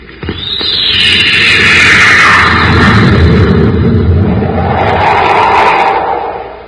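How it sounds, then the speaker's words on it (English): A radio-drama rocket ship fires its rockets and blasts off: a loud, sustained roaring whoosh swells in after a sharp start, rumbling and hissing steadily with a falling, sweeping tone, heard alone. "Happy, fire rockets. Up ship and away."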